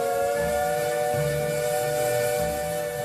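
Steam locomotive on the Brecon Mountain Railway, a steady, shrill multi-tone steam whistle held for several seconds over hissing steam and low rumbling, loud and near.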